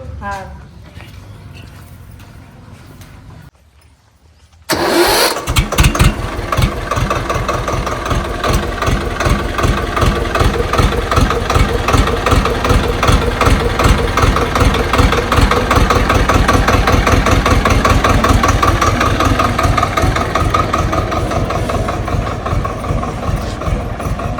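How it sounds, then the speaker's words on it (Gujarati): A tractor engine cranks after a quiet stretch with talk and catches, then idles loudly with a steady low chugging throb that continues to the end, while voices speak under it. "ભલા ભાઈ આયા હતા ટ્રેક્ટર ચાવી લઈ ગયા ટેક્ટર લઈ ગયા"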